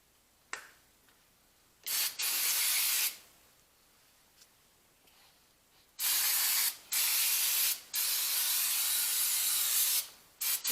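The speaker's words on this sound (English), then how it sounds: "This is just brake parts cleaner." Brake parts cleaner sprayed from an aerosol can during a brake pad change on a 2016 Hyundai Elantra, several loud hissing bursts of varying length separated by quiet gaps.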